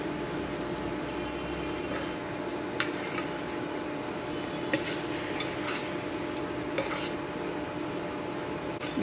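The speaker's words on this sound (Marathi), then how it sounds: "आणि आता ही भाजी आपण मिक्स करून घेऊया." A vegetable mixed with tamarind pulp is stirred in a pan, giving soft steady scraping and stirring with a few brief clinks of utensil on metal over a low background hum.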